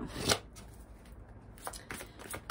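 A deck of oracle cards being shuffled and drawn, a sharp riffle followed by softer flicks and card slides, close and fairly quiet with no talking.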